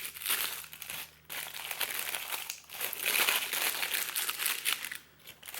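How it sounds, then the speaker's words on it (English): Tissue paper crinkles and rustles in bursts as a Pandora Bloom spring collection jewelry box is unwrapped, a close, steady crumpling with brief pauses between handfuls. "Little tissue paper."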